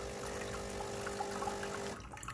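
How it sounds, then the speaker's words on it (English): Water running through a Breville/Sage Barista Pro espresso machine, a steady close hiss and trickle with a pump hum that cuts off near the end. "allow the water to run through for about 10 seconds, then you press the button again to stop the water"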